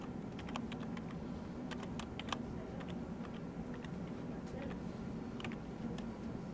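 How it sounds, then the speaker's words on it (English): A name is typed on a computer keyboard, producing quiet, irregular key clicks in a soft, steady run against low background hum. "We can type in our name."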